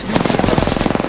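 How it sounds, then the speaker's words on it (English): Rapid automatic gunfire from an Apex Legends match, a dense burst of evenly spaced shots rattling close and loud for about a second with no other sounds. "Shot fired, and they're hitting me. I am taking fire, friends."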